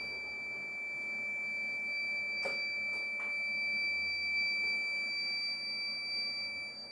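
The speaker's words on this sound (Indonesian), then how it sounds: "Buzzer aktif karena dia overwatt atau overload." A hybrid 48V inverter sounds its overload buzzer after a 5000-watt load, a steady high electronic tone that holds throughout with a few faint clicks and no talking.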